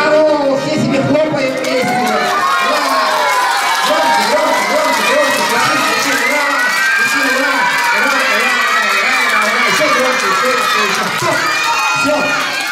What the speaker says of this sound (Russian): Все себе хлопают песню. Браво!